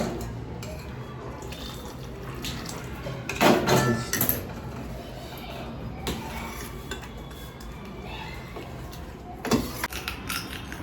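Hot water is poured into a pan of cooked potatoes and peas, with scraping, stirring and clinks of a utensil against the pot, two louder clattering bursts standing out over a quiet kitchen background.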